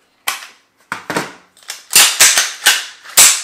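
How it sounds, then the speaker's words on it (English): An AR pistol fitted with a CMC two-stage drop-in trigger fires at an outdoor range: about eight sharp, loud, close shots, the first few spaced apart, then a quicker run near the end. "So I'm pulling the trigger."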